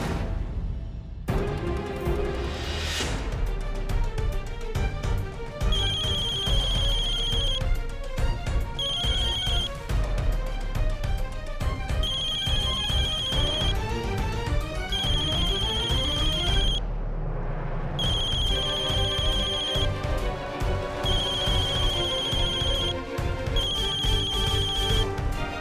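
A telephone ringtone plays loudly and continuously in a repeating electronic pattern, with steady tones recurring in bursts and a brief break near the middle, heard alone without talk during a phone call in a Marathi TV serial scene.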